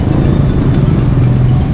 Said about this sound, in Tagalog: traffic pa uwi.